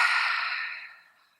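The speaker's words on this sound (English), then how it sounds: "breathe in and breathe out." A long, breathy exhale during a home Pilates session, close to the microphone, starting strong and fading smoothly to silence over about a second and a half, with no voice.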